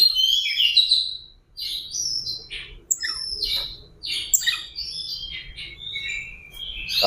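Kacer, the oriental magpie-robin, delivers a lively run of varied whistles, sharp chirps and squawky notes, continuous and close, with a soft low rumble underneath.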